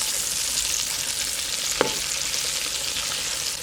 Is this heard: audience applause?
no